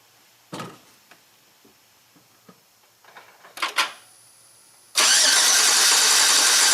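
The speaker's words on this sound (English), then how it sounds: "do a cranking test." A 2009 Chevy Silverado with an AFM engine and a misfire, under a cranking test: a few scattered clicks and clunks, then the engine cranks and catches into a loud, steady, close running roar.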